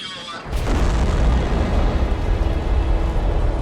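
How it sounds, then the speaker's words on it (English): A Russian Proton rocket carrying the Zarya module for the International Space Station lifts off, and a sudden deep roar swells in after a brief quieter moment, then holds as a loud, rumbling, crackling thunder. "Liftoff of the Proton rocket of the Zarya control module."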